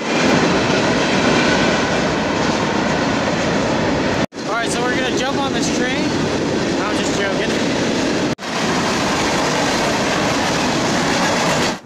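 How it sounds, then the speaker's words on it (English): A train passes close by in a neighborhood, a loud continuous rumble with clattering wheels on the rails that fills the whole stretch, interrupted only by two brief cuts. "Now there's a train."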